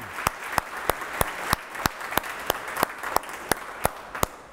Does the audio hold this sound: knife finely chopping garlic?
no